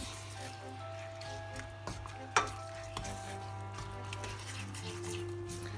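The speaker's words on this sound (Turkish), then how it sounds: "İçerisine 2 su bardağı havucumuzu ekliyoruz. Ve karıştırmaya başlıyoruz." Grated carrots are stirred into melted sugar and margarine in a pan, a faint, steady sizzle under soft scraping and stirring noises with one sharper clink partway through.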